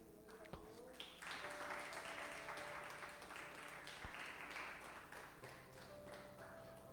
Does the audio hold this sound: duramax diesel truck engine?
no